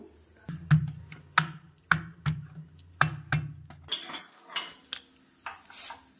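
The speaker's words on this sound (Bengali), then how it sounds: "তো চলো এগুলোকে একটুখানি থেতো করে নিই" Walnuts, peanuts and cashews are crushed by hand in a home kitchen, with a steady series of sharp pounding knocks followed by softer scraping and grinding toward the end.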